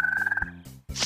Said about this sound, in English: Frogs fill their bellies with insects.